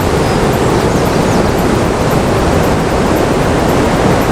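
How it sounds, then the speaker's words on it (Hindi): The Yamuna river rushes steadily at Yamunotri in Uttarakhand, a loud, unbroken roar of clear mountain water close by, with no voices. "ये यमुना माँ बह रही है"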